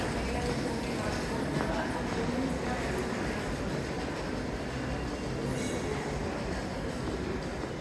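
A New York subway train of R160 cars rides along with a loud, continuous rumble and rattle heard from inside the car. The roar stays steady the whole time with faint clatter.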